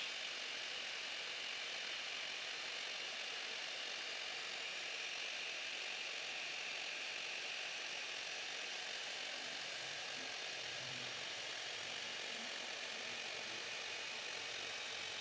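Electric air pump inflating a Bestway Lay-Z-Spa Tahiti inflatable hot tub, giving a steady, fairly faint whirring drone that runs unchanged throughout with no speech.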